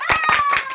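Several people clap hands in a short burst of applause for the winner of a children's biscuit-eating competition. Voices can be heard faintly in the background.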